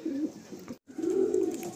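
A Madrasi pigeon pair cooing close by: low, rolling coos in two bursts split by a brief silent gap, the second phrase longer and louder, with no talking.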